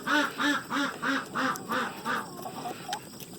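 A duck quacks loudly in a rapid, steady series of about seven calls, followed by softer, scattered quacks and chirps nearby.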